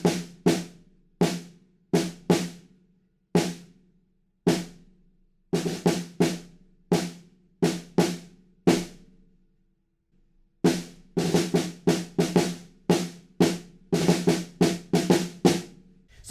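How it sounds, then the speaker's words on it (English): A snare drum pattern, played slowly with a tiny roll: crisp isolated hits in an uneven rhythm, then a denser cluster of strokes, close and clean with no talking. "we've got this little snare drum pattern, which is a little bit weird to count, and there is a tiny little roll in there as well"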